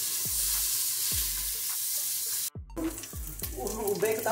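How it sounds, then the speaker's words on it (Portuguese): Around 100 grams of bacon sizzles and spatters in a frying pan, with a steady crackling hiss broken by repeated sharp taps of a utensil stirring the pan. "fritando o bacon."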